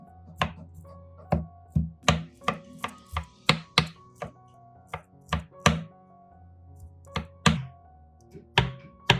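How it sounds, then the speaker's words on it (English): A knife chops broccoli florets on a cutting board in crisp, close thunks, about twenty uneven strokes spread over several seconds with short pauses between them and no talking. "Then chop the broccoli florets."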